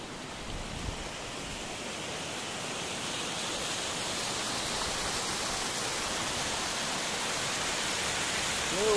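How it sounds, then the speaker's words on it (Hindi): A mountain waterfall flows on the Khaliya Top trek in Uttarakhand near Munsiyari, a steady broadband rush of falling water that swells slightly louder over several seconds, with no voices. "और झरना भी बह रहा है यहाँ देखिए।"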